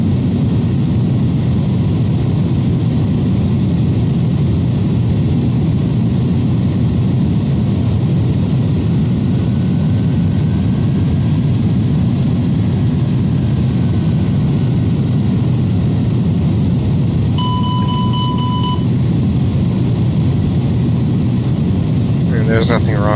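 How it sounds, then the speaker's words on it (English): Steady, loud engine roar from an iniBuilds A306 airliner climbing to cruise altitude in X-Plane 11, a continuous drone throughout with a brief tone near the end. "And climb up to cruising altitude."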